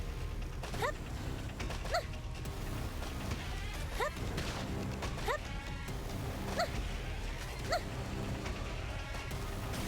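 A dog in the game Xenoblade X gives short barks and whimpers at a regular pace, set against a steady, busy mechanical hum and creaking game ambience; the barks come at moderate distance and rise clearly above the background.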